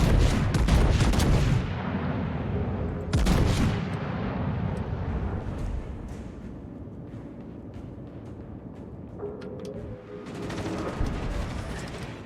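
Heavy naval guns boom in a World of Warships battle, a loud blast near the start and another around three seconds in, with rumbling game sound and a later mechanical whir beneath.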